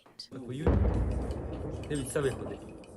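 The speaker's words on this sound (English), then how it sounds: "But the sound of an explosion nearby is a reminder Russian troops aren't far" A nearby explosion in a Ukrainian village near Kyiv lands as a single low, heavy boom that rumbles on briefly beneath a voice speaking over it.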